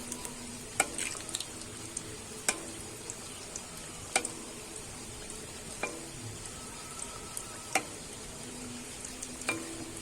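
Oil sizzles steadily on a Dhakai paratha frying in a pan, a soft continuous crackle broken by a few sharp clicks and taps of a ladle, with no voices.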